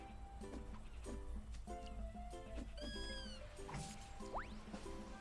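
Short, chirpy meow-like cries from the mobile tower-defense game Kitty Keep sound over a busy layer of game effects and a low, steady background.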